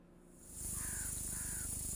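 Two harsh caws from a crow in a video game ring out clearly over a steady rhythmic game background hum.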